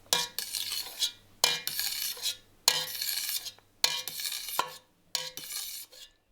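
Cheese curd being cut and stirred in a pot, with repeated scraping, swishing strokes in bursts of about a second each, separated by short pauses, close and clear with no talk.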